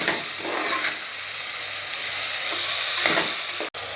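Tomatoes sautéing in a pan for egg biryani, a continuous close sizzle and hiss with occasional stirring scrapes, steady throughout and ending abruptly, no talk.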